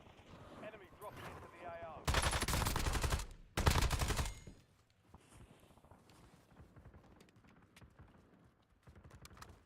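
AK rifle fire in a video game comes in two loud sustained automatic bursts near the middle, surrounded by quieter game noise and footstep-like clatter, with a player talking at times.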